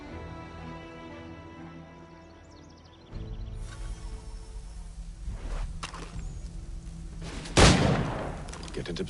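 Gunfire in Assassin's Creed 3 Remastered, a sudden burst of shots and booms that build to one loud blast near the end, over game ambience and battle noise.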